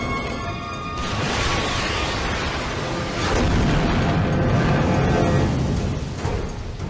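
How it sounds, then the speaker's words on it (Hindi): A target is blown up in a dense, roaring explosion that keeps rumbling for several seconds, loud and full, with a second surge of blast noise midway and no voices. "अब मैं अगला टारगेट उड़ा रहा हूं।"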